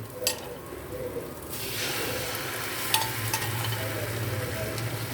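An omelette fries in a pan on low heat, giving a steady soft sizzle, with a few light utensil taps near the start and a low hum underneath.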